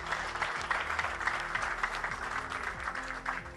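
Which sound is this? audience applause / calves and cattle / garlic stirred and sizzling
audience applause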